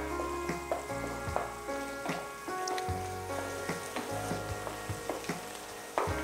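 Ground tomato puree from four tomatoes goes into a hot pan for chana masala and sizzles and crackles steadily with a few stirring knocks, close and continuous throughout, without any speech.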